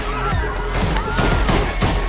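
Sharp, loud bangs of gunfire burst in quick succession over a dense, booming action soundtrack in a scene from the film John Wick (2014).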